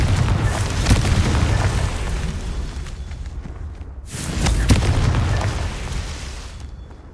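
Fiery blasting-spell explosions in a video game: two heavy booming bursts a few seconds apart, each with a loud low rumble that swells and fades, with no voices.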